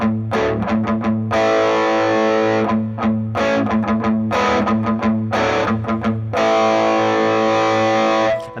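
Distorted electric guitar chugging verse chords with galloping palm-muted rhythms and ringing open chords, loud and close, no talk.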